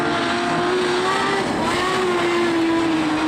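Modified sedans race on the Lismore Speedway dirt track during an Australian title heat, engines roaring loud and close in a sustained drone, pitch sliding up and down as cars power through the turns.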